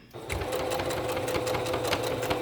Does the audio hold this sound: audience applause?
no